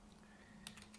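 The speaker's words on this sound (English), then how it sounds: "We start typing the equal sign" Typing on a computer keyboard while entering an Excel formula, a few quick soft key clicks late in a short quiet moment, close but faint over a low steady hum.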